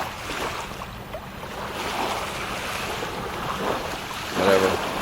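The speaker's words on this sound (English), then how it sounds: "So I'm at Sheboygan State Park, and this is the beach." Waves wash onto the Lake Michigan shore at the Sheboygan State Park beach, a continuous surf hiss and rumble mixed with wind buffeting, with a brief louder gust near the end.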